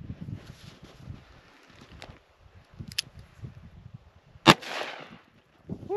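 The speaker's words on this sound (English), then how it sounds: "got the Ruger Redhawk 44 mag. 305 grain HSM bear load." A Ruger Redhawk .44 Magnum revolver fires a single 305-grain bear load outdoors, one sharp loud blast with a short rumbling tail, amid wind and quiet rustling.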